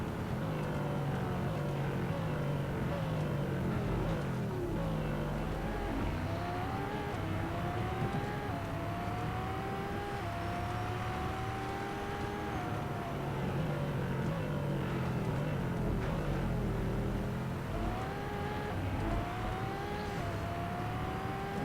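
A Porsche 918 Weissach engine in Real Racing 3 roars continuously and loudly, its pitch sweeping up and down through repeated acceleration and lifts, heard alone with no talking.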